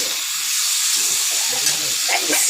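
Water poured into fried pointed gourd curry in a pan, a loud hissing sizzle with steam that stays constant, brightening slightly toward the end.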